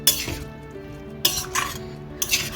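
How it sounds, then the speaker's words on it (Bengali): Vegetables stirred into spice paste of Kashmiri chilli in a pan, with spoon scrapes and clatters in three short bursts over a soft sizzle. "সবজিগুলো দিয়ে দিলাম আবার একটু নাড়াচাড়া করে নিচ্ছি"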